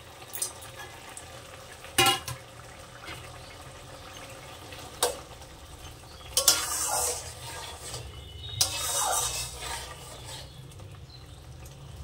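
Fish curry with mustard and poppy-seed paste simmering in a pan, a low bubbling sizzle with a few sharp stirring knocks and short louder splashes, no talking.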